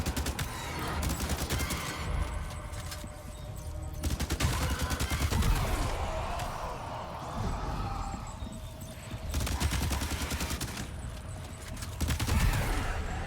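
Bursts of video-game gunfire from Death Stranding 2 crackle in dense volleys, fading between clusters of rapid shots, with clip-clopping hooves and layered ambience underneath.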